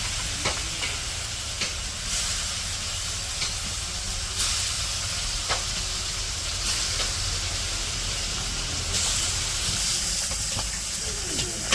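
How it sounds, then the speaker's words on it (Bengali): Fish frying in mustard oil in a wok gives a steady, close sizzle and hiss with occasional soft scrapes of stirring, continuing without break throughout. "মাছ ভাজার জন্য কড়াইয়ে সরিষার তেল দিয়ে দিছে"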